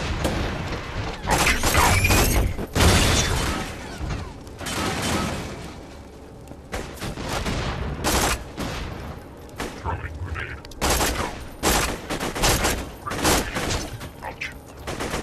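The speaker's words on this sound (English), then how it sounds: "the SMG is actually better when not zoomed in" SMG gunfire in Borderlands 2, rapid bursts of shots and mechanical clatter in irregular volleys with brief pauses, fairly loud and mixed with other game sounds.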